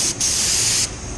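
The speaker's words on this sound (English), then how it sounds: "let's see what I'm spraying out here." Spray gun hissing out silver automotive paint at about 20 PSI, a short pause after the first burst and then one steady, loud spray lasting well over half a second before cutting off.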